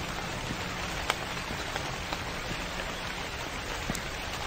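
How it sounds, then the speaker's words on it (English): Steady rain in the horror game Convenience Store, a dense even hiss of falling water with a few louder drips ticking through it, no voices. "God, this rain sound is just not ideal."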